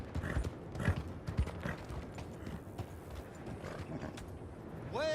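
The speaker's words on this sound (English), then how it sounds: "Get that horse hidden away, Clive, and ready to move out" Horse hooves clip-clopping in the video game Red Dead Online, several distinct close hoofbeats early on giving way to quieter shuffling, ending with a whinny-like tonal cry.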